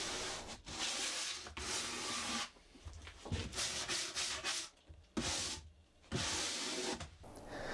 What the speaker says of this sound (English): I'm just hand sanding the boards because they were brand new and in good condition